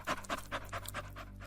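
Dogs pant close by under a hot sun in a quick, steady rhythm of about seven breathy huffs, alone and faint.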